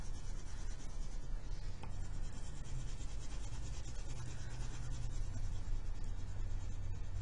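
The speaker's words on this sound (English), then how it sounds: "Color your edges a little bit darker." Crayon rubbing steadily across paper while an ice cream cone drawing is shaded, a continuous close scratchy texture with no talk.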